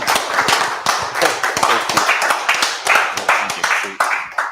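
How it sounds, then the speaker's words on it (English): Applause from a crowd at a PHP Sussex tech meetup talk, steady clapping with dense overlapping hand claps throughout, fairly close and loud. "let's get another round of applause for Andy."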